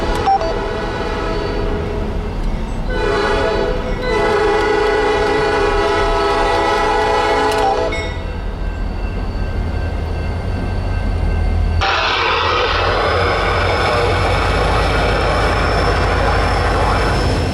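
Norfolk Southern local freight AB09 moving at Finley Yard in North Birmingham, Alabama, sounding its horn in loud sustained blasts with a short gap, then a rumbling locomotive and clanking cars close by.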